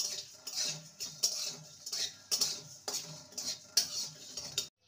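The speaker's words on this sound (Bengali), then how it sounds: "শুকনো খোলায় মশলাগুলোকে ভালো করে ভেজে নেব।" Whole spices are dry-roasted in a pan and stirred, giving close, rhythmic scraping and rattling strokes in repeated bursts with short pauses, and no talking.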